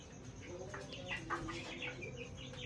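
Several chickens cluck and chirp softly together in a steady, busy chatter, with a low background hum underneath.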